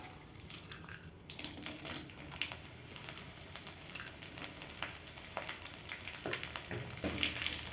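Curry leaves and dried red chillies sautéing in oil in a pan for Pallipalayam chicken, a steady crackling sizzle with scattered sharper pops, moderately close and continuous with no talking.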